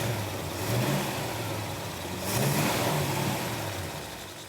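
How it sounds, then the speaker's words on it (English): Engine of a project car in a garage running after start-up: a steady rumbling idle with a couple of swelling revs, moderately close and continuous, with no talking. "Chase, go ahead and fire it up."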